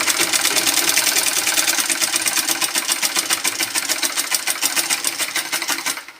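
A sewing machine runs steadily, stitching darts on the front piece of a garment, a fast even mechanical chatter that stays close and loud before stopping abruptly at the end, with no talking.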